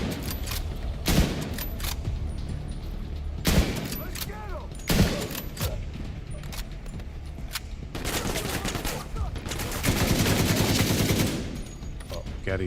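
Gunfire from a weapon in Call of Duty comes in several loud bursts of rapid automatic shots separated by short pauses, with a longer sustained burst near the end and a voice talking faintly in between.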